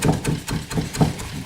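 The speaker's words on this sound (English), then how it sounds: "Just going to give them a little chop." Knife chopping wild chives on a cutting board, a quick run of about seven evenly spaced, close, crisp chops.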